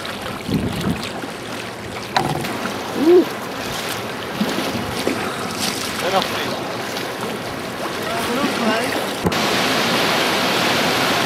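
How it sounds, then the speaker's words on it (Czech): Black Sea waves wash against small boats near an island in the Danube delta, with continuous choppy water splashing and wind buffeting close by. Someone speaks over the water noise. "naše čluny omývají černomorské vlny"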